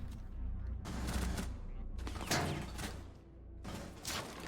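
Rapid bursts of automatic fire from Ace's gun in Rainbow Six Siege, three loud volleys separated by short pauses with a steady low game hum underneath.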